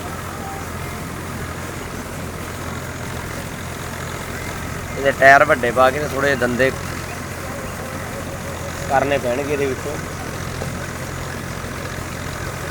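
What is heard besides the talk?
tractor engine idling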